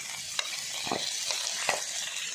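Ginger and raw mango frying in ghee in a kadai give a steady, close sizzle, with a few scraping stirs of a spatula cutting through the hiss.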